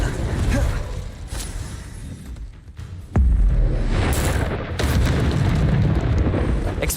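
An Incendio fire spell is cast in Hogwarts Legacy, a loud booming burst of flame that cuts in sharply after quieter rumbling, followed by roaring fiery crackle and a second surge.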